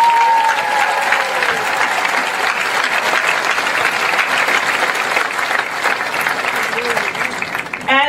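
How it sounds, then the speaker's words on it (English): A graduation audience in a stadium applauds with dense, sustained clapping mixed with distant cheers and a few whistles, loud and continuous throughout. "Every one of us owes each of you a round of applause."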